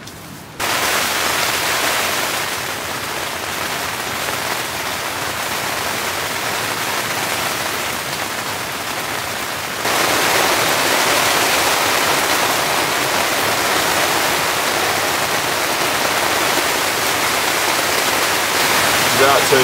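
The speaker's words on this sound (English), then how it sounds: "the rain's just been coming down relentlessly" Heavy rain hammering on a large tent during a night storm, a dense, loud, continuous roar that swells louder about halfway through, with no voices.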